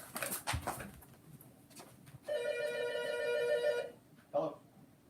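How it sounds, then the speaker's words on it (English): A landline telephone on a main line rings with a bright electronic trill lasting about a second and a half, followed by a short second burst, after brief talk and some background noise at the start. "I got a phone call coming on my main line."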